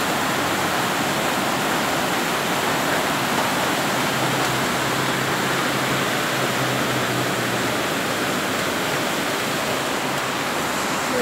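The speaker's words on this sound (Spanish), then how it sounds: "Voy a sacar este un poquitico para allá para que me le caiga agua de lluvia." Steady rain falls outdoors onto potted succulents, a constant, even hiss of water close to the microphone that stays at one level throughout with no talking.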